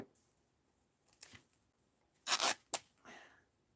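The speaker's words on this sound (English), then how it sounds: "And fold it and tear it right about here." Paper being folded and torn by hand for a mixed-media art journal, a few short ripping bursts close up, the loudest pair near the end followed by a softer rustle.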